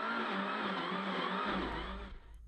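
A Mitsubishi rally car on a slippery muddy stage at the Caledonia Rally, engine roaring loudly with spinning, scrabbling tyres before the noise drops away at the end.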